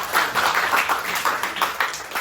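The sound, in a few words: class applauding, clapping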